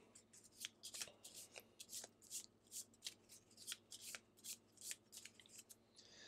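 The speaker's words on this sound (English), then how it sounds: "we need to go ahead and shuffle this deck back together" A deck of cards being shuffled during a Gloomhaven board game session, a steady run of quick riffling bursts at close range, fairly quiet with no talking.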